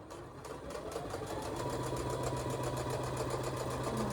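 A sewing machine stitches a fabric project bag in one continuous run, its motor purring with a steady rapid needle rhythm, close and without speech.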